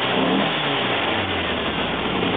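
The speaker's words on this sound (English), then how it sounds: "As soon as I give it even just the slightest amount of gas" A car engine revs as the throttle is applied, a loud, close, steady roar that holds without a break and has no talk over it.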